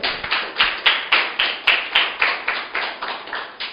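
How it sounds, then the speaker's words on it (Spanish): A church congregation claps hands in a steady unison rhythm, about a dozen sharp, evenly spaced claps that ring out loud and close with no talking. "Aplauda al Señor."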